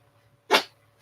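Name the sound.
dog sneezing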